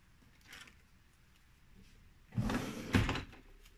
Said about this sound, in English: I'm drawing out my drawer